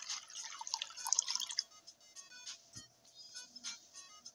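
Water poured into pizza dough in a pizza-oven video game, heard as a quick run of bright, bubbly dripping plinks, soft and close, alone with no talk.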